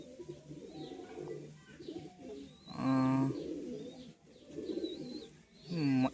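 Pet pigeons of a Kamagar breed, a black-and-white male and a female, coo in repeated throaty rolling calls close by, several overlapping phrases swelling loud and then easing off.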